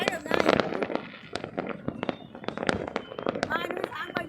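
A village fireworks display in Thach Son, Vietnam, sets off a rapid run of sharp cracks and bangs, some near and some distant, with people talking over the bursts.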